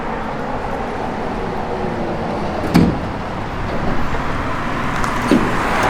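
A 1972 Chevrolet C10 pickup in burgundy metallic paint with a cowl hood cruises along the road, its steady broadband road and engine rumble continuous throughout, with a couple of brief knocks or passing thumps and no talk.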